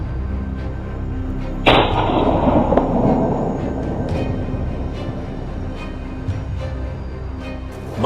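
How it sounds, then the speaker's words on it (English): A single sharp gunshot cracks out during a wild boar hunt in a forest, its echo trailing away for about a second amid faint ambient noise and scattered small clicks. "The sound of gunfire echoed throughout the forest, mixed with the sound of hurried footsteps."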